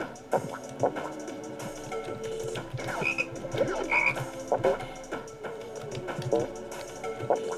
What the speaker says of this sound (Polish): na dnie tej jaskini właśnie najwięcej żab się kręci